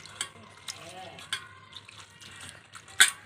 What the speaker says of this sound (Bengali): এটাকে ভালো করে ধোবো আমি এই দেখো এইভাবে ধুতে হবে